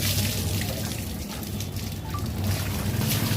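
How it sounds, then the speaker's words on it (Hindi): Steady rushing water poured over a body splashes continuously, a close, even wash of liquid with no pauses. "पूरे बदन पे आपको पानी बहाना है"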